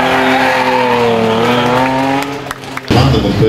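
A rally car races on a stage of the Jarocin rally, its engine loud and close with sustained revving and tyre squeal, then the note drops before a sharp burst of power near the end.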